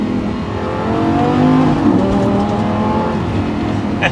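A Lamborghini Gallardo engine revs under way while driving, the pitch rising and sweeping through gears in a steady loud drone with no talk over it.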